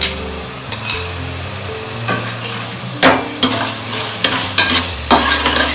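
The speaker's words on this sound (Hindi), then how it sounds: "जो बल्लर की छिली दाल है, बल्लर की छिली दाल, इसको ऐसा मिक्स करना है।" Hulled ballar dal is stirred in a hot frying pan. A spoon scrapes and knocks against the pan in irregular strokes over a loud, constant sizzle.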